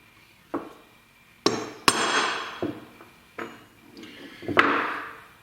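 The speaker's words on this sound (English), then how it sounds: "Using a prick punch" A hammer strikes a prick punch into metal in several sharp, ringing taps with gaps between them, some blows heavier, each followed by a short metallic ring.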